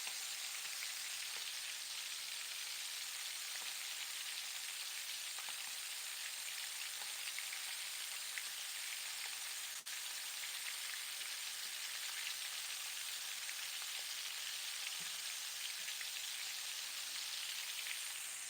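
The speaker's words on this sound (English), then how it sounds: "Ann says that frying sounds yum" Shrimp for crispy tacos fry in hot oil, giving a steady, even hiss and crackle that lasts throughout with scattered small pops and no talking.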